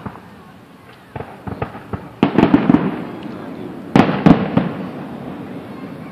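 Fourth of July fireworks bursting in a series of sharp booms and crackling pops, some distant and a few loud close blasts around the middle, with rumbling echoes trailing between them.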